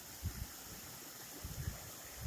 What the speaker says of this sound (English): Crossing Bobtail Creek again.